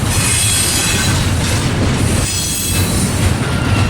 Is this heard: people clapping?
no